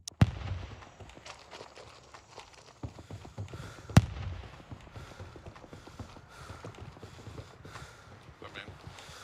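Two sharp mortar blasts in the video game Gray Zone Warfare, one at the very start and another about four seconds later, with a low rumble and scattered clatter between them.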